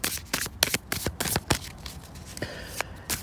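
Tarot cards are handled and pulled from a deck, giving a quick run of crisp slaps and riffling flicks, close and dry, in short uneven bursts with no talking.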